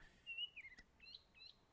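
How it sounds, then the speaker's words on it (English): Small birds chirp outdoors on a cool morning, a few thin high whistles and short tweets spaced apart against a quiet, faint background. "Just lying here, listening to the birds"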